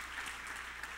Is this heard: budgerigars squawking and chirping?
no